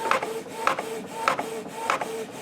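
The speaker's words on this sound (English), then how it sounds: "we'll just tell it to print. And with any luck, it will print just fine" A printer prints onto waterslide decal paper, its mechanism cycling in a steady repeating rhythm of whirring passes and clicks about every half second, loud and close with no talk.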